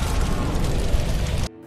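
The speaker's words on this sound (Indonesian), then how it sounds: "David lantas menembak bensin yang ada di dalam rumah itu, sehingga David pun tewas dalam ledakan." A film explosion as gasoline inside a house is shot, a loud, dense roaring blast sustained for over a second before cutting off abruptly to near silence.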